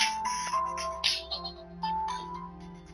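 A phone rings with an incoming call over game audio from Diablo 3 Reaper of Souls on PS4, a repeating electronic ringtone of bright tonal chirps in short bursts, fairly quiet and mixed under steady background sound.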